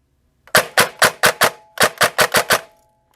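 Ten sharp, close, loud semi-auto shots from a Perun-upgraded airsoft P90 fired over a chronograph, in two quick evenly spaced bursts of five separated by a brief pause, with no talking.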